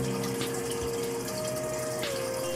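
Water pours steadily into a piranha aquarium tank being refilled during a water change, a continuous rushing gush with a faint pump hum, close and alone, without talk.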